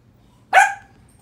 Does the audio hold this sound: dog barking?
yes